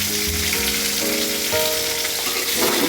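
Capsicum and potatoes fry in a pan, a dense loud hiss of sizzling oil close by that holds steady for a few seconds.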